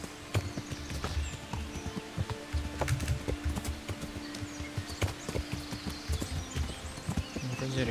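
Horse hooves in Kingdom Come: Deliverance thud in a quick, continuous rhythm, with game ambience and faint voices underneath, close and steady throughout.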